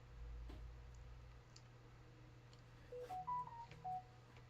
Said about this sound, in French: petit message de téléphone de BBL en même temps qu'il fait sa narration